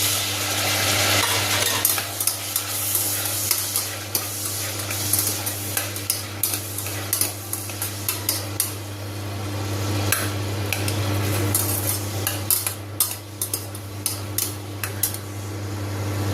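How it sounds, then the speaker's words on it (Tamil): Onions and tomatoes sauté in a pan for pea biryani, with a constant close sizzle broken by frequent sharp clicks and scrapes of a spoon stirring against the metal. "வெங்காயம் வதங்கிட்டு இப்போது தக்காளியை சேர்த்துக்கலாம்"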